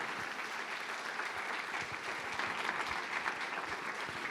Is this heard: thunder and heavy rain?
no